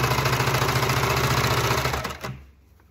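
A sewing machine stitching along a stitch line runs in a steady, loud mechanical whir with a rapid regular rhythm for about two seconds, then stops and leaves a fainter hum.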